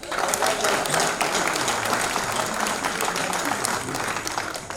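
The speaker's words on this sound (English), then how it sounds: "Can you give the president a round of applause?" Audience applauding the president at an evening press briefing, a steady dense wash of many hands clapping throughout, fairly loud and close with a few faint voices mixed in.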